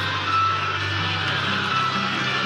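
Electronic reversing-style beeps, like an ice cream truck chime or ringtone, repeat steadily over a constant loud background hum from a live wrestling arena broadcast.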